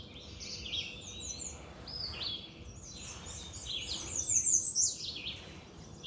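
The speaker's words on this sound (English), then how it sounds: "I am hearing a lot of birds up in these trees here." Several birds sing and chirp in trees on an Ontario morning, bright overlapping phrases and tweets coming in bursts over faint low background rumble, moderately distant and without talk.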